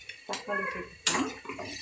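A spoon stirring tomatoes in a pan for dried-fish thokku, making two short bursts of metallic scraping and clinking against the pan, close and brief.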